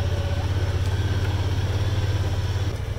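A tractor engine runs steadily on an off-grid property, a low, throbbing diesel-like chug with a regular pulse, fairly close and continuous without talk.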